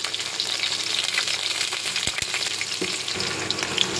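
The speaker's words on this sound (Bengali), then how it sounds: "রসুনটা একটু ভাজা ভাজা করে নেব।" Garlic sizzles steadily in hot oil with black cumin and dried chilli, a dense continuous frying hiss broken by a few soft stirring knocks, close and alone.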